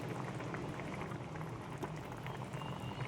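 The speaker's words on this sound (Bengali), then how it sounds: "ফুটছে টকবক টকবক করে" Curry broth boils in a pot on a home kitchen stove, giving a soft, continuous bubbling that stays low and steady throughout.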